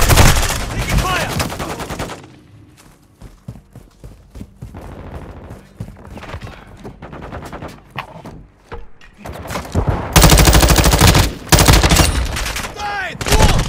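Rapid automatic gunfire and bursts of shots from a Call of Duty: Modern Warfare II match on the Showdown map, loud and close, with a quieter stretch of scattered shots and a voice before heavy firing resumes.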